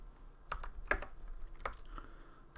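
Someone types on a computer keyboard in scattered, quiet taps, a few isolated keystrokes spaced irregularly over a soft background hum with no talking.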